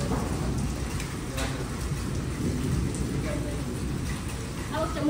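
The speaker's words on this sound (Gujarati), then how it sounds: "પછી બરફ આવ્યો ને પછી વરસાદ આવ્યો." Rain falls steadily with hailstones, a dense continuous patter on the ground and surfaces, with scattered sharper hits and distant rumbles running under it.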